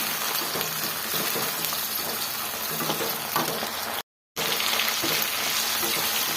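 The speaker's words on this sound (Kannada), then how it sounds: "ಕರ್ಬೇವಿನ ಸೊಪ್ಪು ಸೇರಿಸ್ಕೊಳ್ತಾ ಇದ್ದೀನಿ ಚೆನ್ನಾಗಿ ಈ ಥರ ಮಿಕ್ಸ್ ಮಾಡ್ಕೊಳ್ಳೋಣ" Curry leaves frying and being mixed in hot oil in a pan for bisibele bath, a dense continuous sizzle with stirring, briefly cut to silence partway, then resuming.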